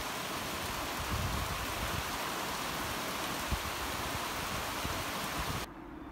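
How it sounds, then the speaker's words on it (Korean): A sudden rain shower pours down steadily outdoors near a chicken coop path, a dense, even hiss of heavy rainfall that holds constant before cutting off abruptly near the end. "어허, 그새 소나기가 막 쏟아집니다."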